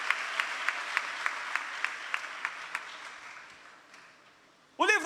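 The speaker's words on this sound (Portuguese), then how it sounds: "Você pode aplaudir ao Senhor Jesus nessa manhã, por essa palavra?" Church congregation clapping in a steady, rhythmic beat during a Sunday morning service, moderately loud and gradually fading, followed by a sudden short burst of sound at the end.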